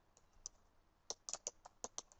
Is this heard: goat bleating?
no